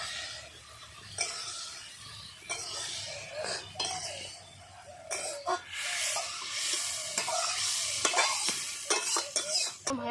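Onions and tomatoes fry in a pan with a soft sizzle while a utensil stirs and scrapes against the metal in irregular strokes, close and fairly quiet, with occasional clinks.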